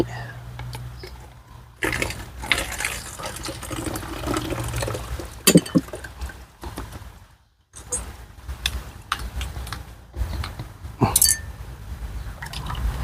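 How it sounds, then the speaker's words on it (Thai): Water is poured into a bottle while mixing a homemade leftover-rice fertilizer, with splashy liquid noise in bursts and a brief gap midway, close to the microphone and partly under speech. "แล้วก็นำมาเทใส่กับขวด น้ำแบบนี้"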